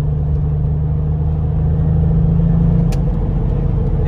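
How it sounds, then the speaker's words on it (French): A turbocharged Porsche held in fourth gear gives a loud, steady low engine rumble as it pulls, close up from inside the cabin, with no one talking. "Et on sent le turbo va se déclencher très rapidement sur cette voiture."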